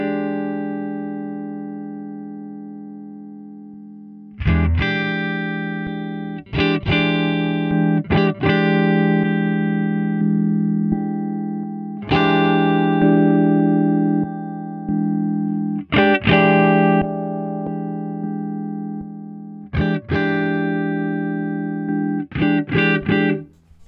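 An electric guitar plays through clean amp presets on an Axiom amp simulator: a ringing held chord, then a series of separate strummed chords, each sharply struck and left to sustain and decay, loud and close with no talking.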